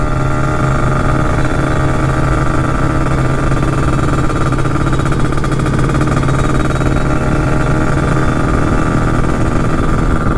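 Several motorcycles race at high revs: a Kawasaki Ninja RR alongside Yamaha MX King, Kawasaki MT25-class and NightRun bikes, their engines droning in a loud, continuous, steady roar with no pauses.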